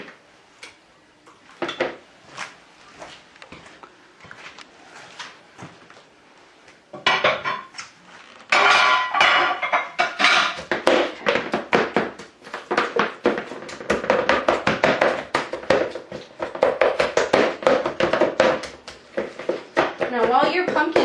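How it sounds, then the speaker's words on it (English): Cooked pumpkin is smashed in a bowl with a utensil, giving repeated close clinks and scraping taps in uneven bursts, louder in the second half, with a person talking throughout. "I might have to go ahead and smash up the rest of that pumpkin"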